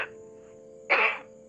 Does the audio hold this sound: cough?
yes